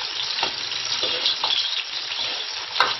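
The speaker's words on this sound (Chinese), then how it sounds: "把它炒出香味儿" Crushed fresh ginger stir-fries in warm oil in a pan with a close, steady sizzle. Intermittent scraping strokes from stirring break it up, and a sharp clink comes near the end.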